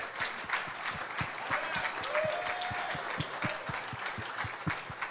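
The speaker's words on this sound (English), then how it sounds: "Let's have a round of applause for Wally Shaver" Banquet audience applauds at the Hobey Baker Memorial Award dinner, a moderate wash of clapping across the room with one nearby pair of hands striking a distinct, steady rhythm throughout.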